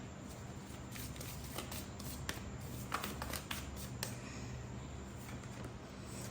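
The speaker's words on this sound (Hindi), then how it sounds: "शफल करते हैं।" Tarot cards shuffle by hand in a faint, close series of soft riffles and flicks, irregular in rhythm, over quiet room noise with no talking.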